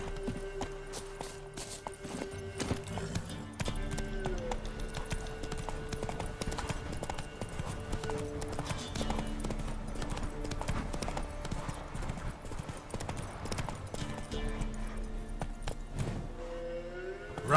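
A horse gallops in the video game The Witcher 3 with rapid, continuous hoofbeats under a layer of game music and ambience, close and steady throughout.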